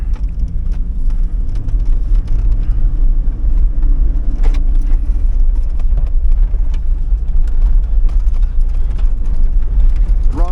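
A 2004 Hummer H2 with a 6.0L V8 running and driving in gear, a steady loud low engine rumble and road noise that continues throughout, close by with no talk.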